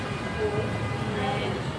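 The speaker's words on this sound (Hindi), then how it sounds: "ये रहा, तो मेट्रो आ गई है।" A Delhi Metro train pulls into the platform at the Sector 15 Noida station, a steady rumble and rising wheel whine filling the station at moderate loudness.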